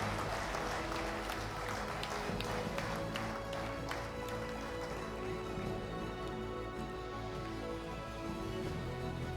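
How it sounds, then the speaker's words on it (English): Audience applause at the 15th Vishwakarma Awards ceremony, a steady wash of many hands clapping that holds throughout and fades slightly near the end, somewhat distant. "Can we hear some loud applause?"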